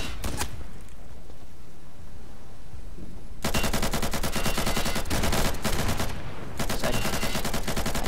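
Heavy gunfire in the video game Insurgency: a few early shots, then dense sustained automatic bursts that break off briefly and resume, loud and close, with no talking.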